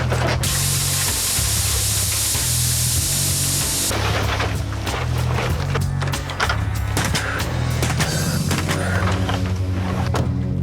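A sprayer applies parging onto a house wall during renovation, giving a steady, loud hiss of spray with mechanical rattling and clatter underneath throughout.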